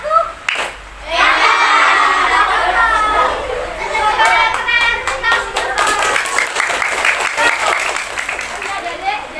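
Children clapping in rhythm during a 'tepuk satu' clapping game at a health education session, loud and close, with excited chatter and voices mixed in and bursts of sharp claps toward the end.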